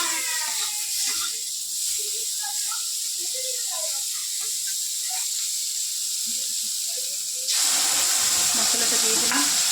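Spices frying with salt and turmeric in a hot pan give a continuous loud sizzle with soft stirring scrapes. The sizzle swells suddenly near the end.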